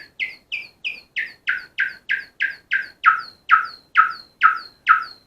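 An EMS Synthi AKS synthesizer produces bird-like chirps, a steady series of about a dozen loud, close, downward-sweeping squawks repeating evenly and growing slightly stronger.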